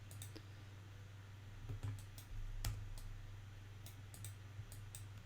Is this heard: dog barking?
no